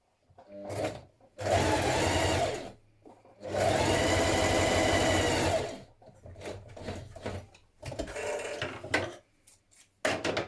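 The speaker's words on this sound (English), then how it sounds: "you're going to do a straight line of stitching here and leave the ends running free" A sewing machine sews a straight line of stitching on a hoodie in several loud, close bursts of rapid needle chatter separated by brief pauses.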